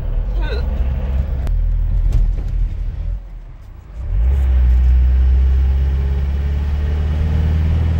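A car engine rumbles steadily on the road, drops away briefly around a gear change, then swells back to a louder, lower drone as the driver downshifts, with people talking over it.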